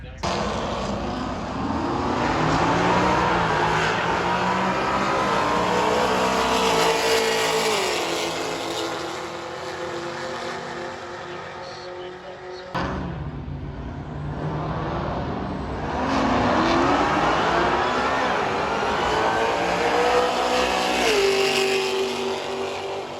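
Race cars at a roll racing event at zMAX Dragway in Charlotte scream past in two loud runs, engines climbing through rising, gear-stepped pitch with a brief dip between, while an announcer's voice talks over the noise.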